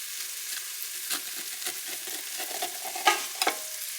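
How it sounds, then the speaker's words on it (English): Onions sauté inside an Instant Pot with a soft, steady sizzle and light stirring scrapes, ending in a couple of sharper metallic taps close by. "So my onions are sauteing."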